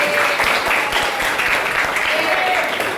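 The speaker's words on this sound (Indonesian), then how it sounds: "Kita berikan aplaus dulu buat Nabil." A classroom of students gives a round of applause for a classmate, dense, loud clapping from many hands filling the room for a few seconds, with voices mixed in.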